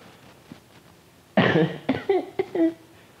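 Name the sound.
cough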